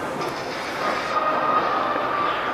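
Lille metro line 1 VAL automatic train running, a steady loud rumble of wheels and motor with a faint high whine, heard from on board near the station area.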